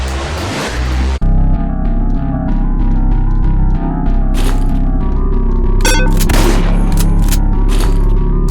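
Gunfire in The Happyhills Homicide 2 video game, sharp loud shots and bursts cutting through a dense, continuous rumbling game soundscape, with several cracks clustered toward the end.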